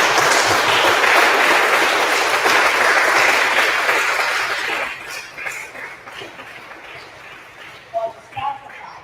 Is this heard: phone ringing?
no